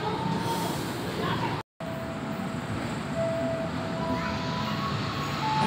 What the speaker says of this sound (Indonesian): Ditarik menggunakan lokomotif CC206-1317, mengangkut kelas ekonomi premium.